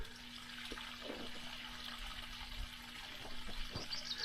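Pump sucking water out of a Doughboy above-ground swimming pool, a steady watery hiss and gurgle running throughout with a faint constant hum and a few brief splashy gurgles, close by and without talk.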